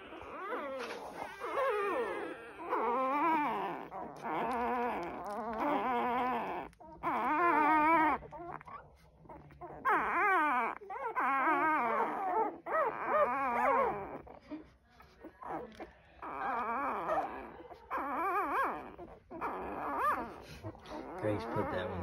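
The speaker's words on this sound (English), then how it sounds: "Great looking bunch of pups." Week-old docked-tail puppies whimpering and yipping together in a litter, a busy stream of high, wavering cries and squeals arriving in bursts with short pauses, close by.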